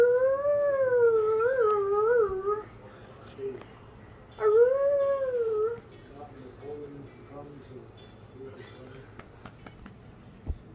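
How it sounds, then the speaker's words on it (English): A dog lets out two long, wavering howls up close, then quiets to soft whimpers and small clicks in a calm room. "Recording the dog."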